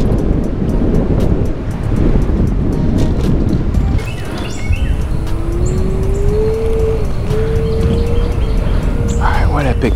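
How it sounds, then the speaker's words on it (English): Water runs steadily through an urban creek beneath a Houston overpass, a loud continuous rushing wash with a few faint bird chirps over it. "Look at all that running water"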